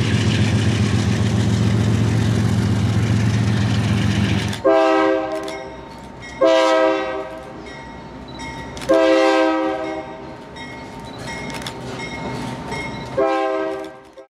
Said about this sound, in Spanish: Comenzamos con ese tren al norte, liderado por la 4412 y su peculiar logotipo repintado